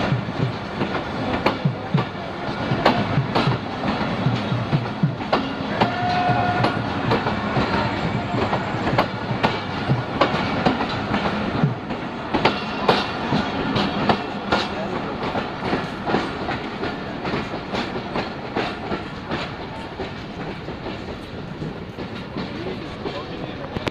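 Interior of the running Bahauddin Zakariya Express passenger train, with steady rail rumble and rhythmic clickety-clack of wheels over track joints throughout, plus faint background chatter from a crowded carriage.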